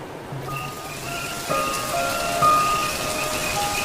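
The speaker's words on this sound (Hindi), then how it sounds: "इतनी बारिश को भी आज ही आना था।" Steady rain falls and patters on a surface, with faint distant tonal sounds over the hiss and no talking.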